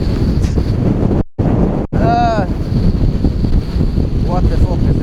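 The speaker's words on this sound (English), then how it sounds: "Oh my god, it's so windy." Strong gusts buffet the microphone outdoors in Ireland, a loud roaring rumble with brief dropouts, while a voice briefly calls out over it.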